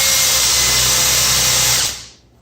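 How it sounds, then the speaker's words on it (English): A power drill with a Screw Mate counterbore bit whines steadily at high speed while boring into wood for a farm-style dining table, then spins down and stops near the end. "I'm using this screw mate bit. It's got the counter bore and the shaft drill here."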